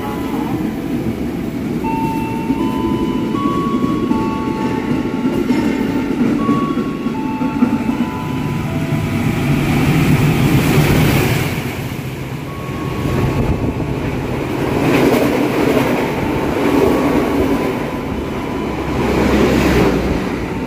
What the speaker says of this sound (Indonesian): Kereta api Argo Perbabu sudah melintas langsung stasiun Midland Telaga Murni.